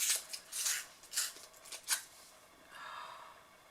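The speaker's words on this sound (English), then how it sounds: "I have to rip the box." A cardboard cosmetics product box is ripped open in a few quick, crisp tearing bursts close up. A softer rustle of the cardboard follows at the end.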